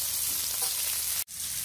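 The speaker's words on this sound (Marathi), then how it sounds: "हे असे मध्ये मध्ये पलटत राहायचं आणि फ्लेम पूर्ण हाय ठेवायची आहे" Chicken frying on a clay roof tile over a fully high flame makes a dense, continuous, loud sizzle that cuts out briefly near the end and then resumes.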